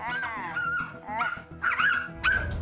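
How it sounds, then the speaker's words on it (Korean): A small, unsocialised puppy barks and yips frantically in rapid, high-pitched bursts, with a voice talking over it. "작은 녀석이 자지러지게 짖는 모습은 보기에 참 안타깝기도 했는데요."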